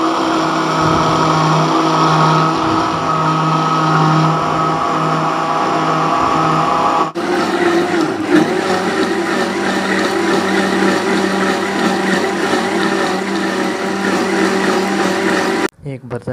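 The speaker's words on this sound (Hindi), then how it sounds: "मशीन को मैं ऑन कर लूँगा 2 मिनट ब्लेंड करने के लिए" A kitchen blender whirs continuously while blending guava with a little water for juice, a loud steady motor drone with strong humming tones that shifts pitch partway through and cuts off abruptly near the end.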